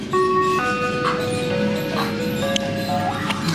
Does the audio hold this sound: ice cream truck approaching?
yes